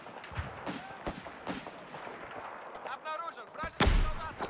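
Gunfire in DayZ Standalone, scattered sharp shots popping at intervals with one heavier blast near the end, mixed with background game noise and some talk.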